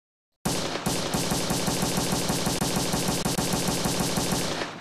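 Colt Magnum revolver fired in Blade and Sorcery VR, a loud rapid series of gunshots with a steady rhythm that runs unbroken from start to end, no talking.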